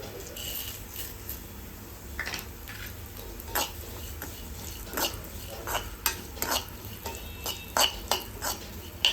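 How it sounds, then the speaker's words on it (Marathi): Sunflower seeds fry in a pan with a soft sizzle, while a spoon stirs and taps against the metal in irregular clicks and scrapes, close and fairly quiet. "आता इथे मी सूर्यफुलाच्या बिया घेतल्या त्या पण आता आपण तळून घेऊया"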